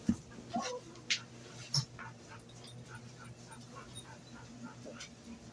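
A small dog whimpers and gives a few short yips, sharp bursts near the start and middle that drop to faint whines over a steady indoor hum.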